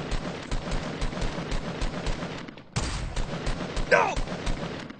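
Repeated gunfire in Fortnite Battle Royale, dense continuous bursts with sharper shots cutting through, heard alongside a voice.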